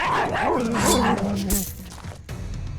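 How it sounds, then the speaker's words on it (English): Dogs bark and yelp as they chase fleeing villagers in the video game The First Templar, several close yaps in quick bursts over a busy background of game sound. "cannot believe they are chasing the villagers with dogs"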